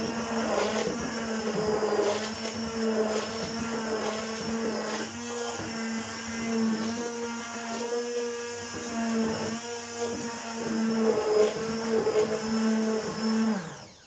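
An electric mixer whirs steadily while blending cake batter ingredients for a breakfast cake, a loud continuous motor drone with a shifting pitch that runs for the whole stretch and cuts off at the end, with no voices.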